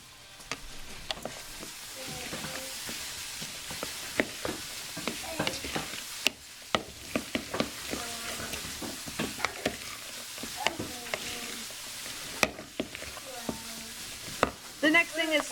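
A spoon stirs a jalapeno, tomato and onion mixture in a sizzling pan, with repeated scraping and clacking strokes over a soft fry, and brief voices murmuring in between.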